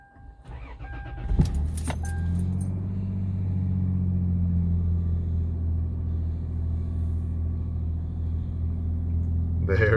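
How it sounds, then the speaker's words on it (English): A 2003 Lexus GS300 that had not been running cranks briefly with a key rattle, then catches and settles into a steady, smooth low idle that holds to the end, close and fairly loud. "I'm gonna go ahead and start the car now and see if"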